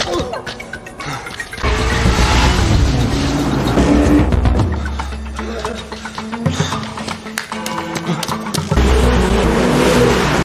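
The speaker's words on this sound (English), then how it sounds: "John appeared with his speeding car" A speeding car roars through a movie chase scene, its engine loud and revving in surges over rushing noise and tense music, with brief impacts and a low rumble that swells near the end.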